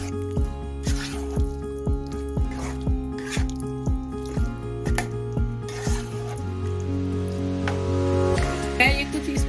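Chicken korma base of one kilo of chicken and a bowl of oil stirred in a pot, with a steady run of scraping, clinking strokes and liquid sloshing, close and fairly loud, alone without talk.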